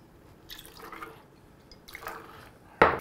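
Prosecco is poured into a glass while mixing an Aperol Spritz. A faint trickle and fizz come and go, then a brief sharp splash-like clink lands near the end. The sounds are close but soft.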